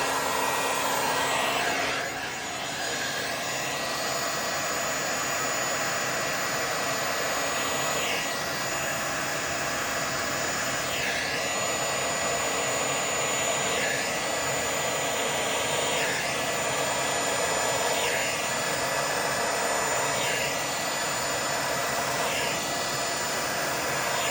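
Heat gun blowing steadily over a fresh resin pour, a loud continuous whooshing roar held for the full length with faint sweeps as it moves, no talking.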